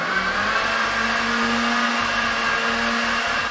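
A blender grinds meat in a working kitchen, a loud, steady motor roar with a constant pitch filling the whole few seconds.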